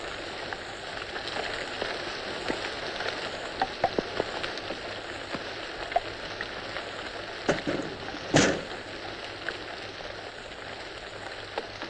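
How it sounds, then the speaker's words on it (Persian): Heavy rain falls steadily as an even, hissing wash with scattered louder drops and a few sharp knocks, no voices over it. "چه بارونی."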